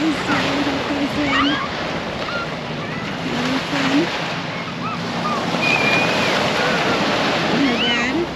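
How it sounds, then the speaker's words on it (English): Ocean surf rolls in at Eagle Beach, Aruba, a continuous wash of waves mixed with wind buffeting the microphone, while people chatter in the background. "we're here at the Eagle Beach in Aruba. Look at the water."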